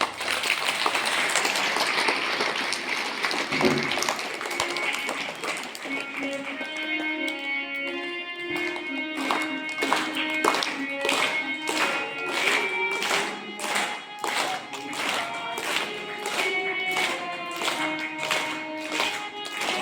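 Students at a school morning assembly clapping in a steady, even rhythm, a dense crowd of hands beating together repeatedly with faint singing voices over the top.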